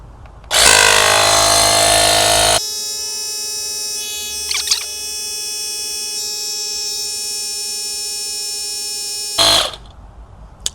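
A Fanttik X8 portable tire inflator compressor pumps air into a C8 Corvette tire through the Schrader valve, a loud buzzing hum that starts with a harsh burst, then settles into a steady tonal drone before stopping, with a brief click midway.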